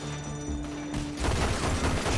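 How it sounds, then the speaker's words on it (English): Pistol shots blasting out a window in Red Dead Redemption 2, a sudden loud burst of rapid gunfire and breaking noise that follows a brief quieter stretch of background hum. "Shoot out this window."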